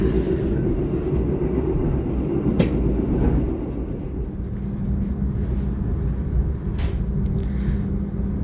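Pangandaran passenger train pulling into Ciamis station in Indonesia, a steady loud rumble of rail cars with a low hum and a few faint clanks and squeaks as it slows, without voices.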